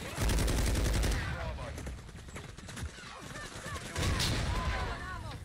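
Rapid gunfire in a shooter video game, sharp repeated cracks and bursts coming in clusters, fairly loud, with excited voices talking over the shots.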